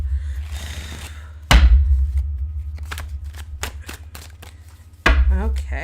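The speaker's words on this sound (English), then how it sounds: "Nice shuffle." Tarot cards riffle and snap in quick bursts, with two heavy thumps and a low background hum between the shuffles.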